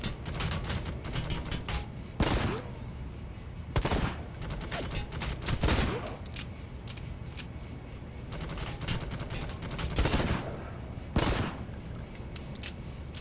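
Repeated bursts of gunfire in the shooter game Necromunda: Hired Gun, loud sharp blasts and volleys spread across the stretch over a steady rumbling background, with no talk.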